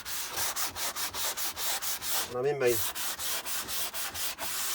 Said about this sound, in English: I'm just going around all the edges with my sanding block